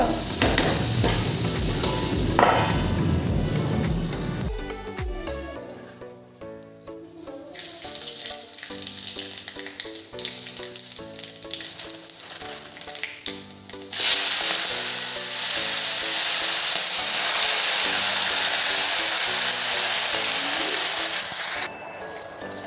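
Spinach cooks in a wok with a continuous loud sizzle and crackle, broken by scraping and stirring clatter and a watery hiss, close up with no voices.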